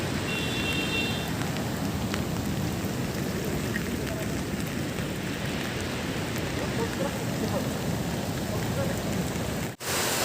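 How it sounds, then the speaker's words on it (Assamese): Heavy rain pours at Seven Sisters waterfall in Cherrapunji, Meghalaya: a dense, steady hiss of rain fills the whole clip without letting up, then cuts out briefly just before the end. "বৰষুণ পৰি আছে, একো দেখাই নাপায়।"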